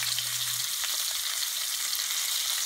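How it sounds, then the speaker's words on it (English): Steak searing in a Le Creuset grill pan, a steady loud close sizzle and hiss that runs unbroken with no talking. "Sear that up like that."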